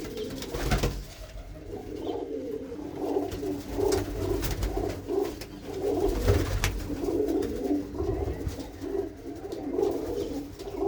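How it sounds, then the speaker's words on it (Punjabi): Several pigeons coo continuously nearby, overlapping low throaty calls rolling on steadily with no speech. "ਮੇਰੇ ਬਹੁਤ ਚੰਗੇ ਚੰਗੇ ਕਬੂਤਰ ਨੇ ਵੀਰ ਹੁਣਾਂ ਦੇ ਕੋਲ"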